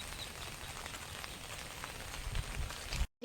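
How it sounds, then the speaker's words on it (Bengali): Steady rain pours down outside a house where builders are working, a continuous soft hiss with scattered drop taps that cuts off abruptly at the end, with no talking. "বৃষ্টি পড়ছে এর মধ্যে আবার।"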